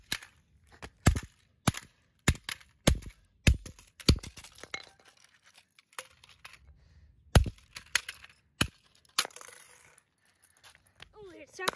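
A series of sharp, loud hammer impacts smashing a Sharp clock in irregular bursts, with pauses and faint rattling between blows.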